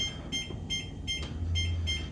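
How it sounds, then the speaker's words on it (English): An oven timer beeps as it is set, giving short high electronic beeps in a steady repeating pattern, fairly close, over a low background hum. "So I'm gonna set the timer for 20 minutes"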